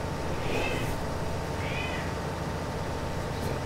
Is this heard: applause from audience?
no